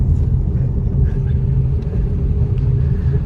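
A car rolls along a road near Lonavala, giving a steady, loud low rumble of engine and tyre noise with no clear rise or fall.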